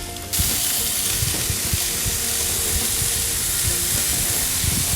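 Meatballs for çeltik kebabı sear in a hot pan with a steady, loud, close sizzle that starts abruptly and holds for several seconds, with a few scraping knocks underneath.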